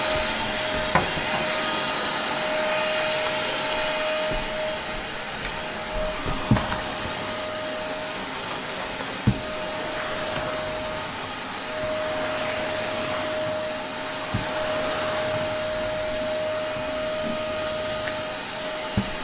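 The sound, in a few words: vacuum cleaner sucking straw from grain dryer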